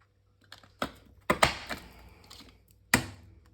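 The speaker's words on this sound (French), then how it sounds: "On prend notre perfo." A paper hole punch snaps through card while making small perfume-bottle advent calendar boxes, giving several sharp, close mechanical clicks with quiet gaps between them.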